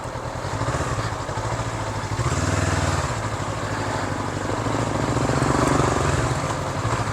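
A motorbike coasting downhill through Hanoi traffic with no throttle and only the back brake. Its engine ticks over in a steady low putter, close and continuous, with some traffic noise around it.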